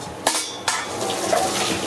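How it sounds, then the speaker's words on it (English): Cooked pasta is tipped from a pot into a strainer in a dorm-room kitchen. A couple of sharp metallic clanks ring out over a steady wash of pouring, splashing water. "It's time to strain the pasta"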